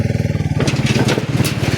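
A motorcycle engine putters steadily nearby, its pulsing rhythm joined by rattling and clatter as the ride gets bumpy.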